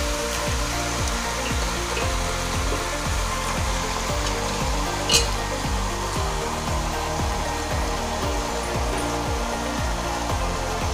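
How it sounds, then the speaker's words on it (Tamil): Washed mutton pieces added to a pan of onion and tomato fry with a loud, steady sizzle that hisses continuously throughout, dense and close, with no voices. "இப்போ நான் மட்டன் போடுறேன்"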